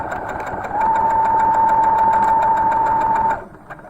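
A sewing machine stitches along the zipper of a fabric pouch in one steady, continuous run for about two and a half seconds, close and fairly loud, then stops. There is no talking.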